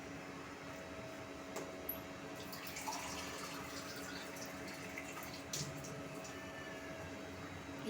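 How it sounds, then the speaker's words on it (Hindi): Water is poured into a cooking pot while preparing aloo gosht, two glasses' worth added for the meat, a soft steady splashing and trickling that is fairly quiet and runs throughout with no talk. "ये देखिए ये 2 गिलास पानी इसमें ऐड किया हमने।"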